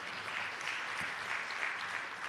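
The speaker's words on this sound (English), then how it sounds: "I think the team deserves a round of applause." Faint, steady applause for a team at a public sector launch event, a soft continuous patter of clapping heard at a distance throughout the brief moment.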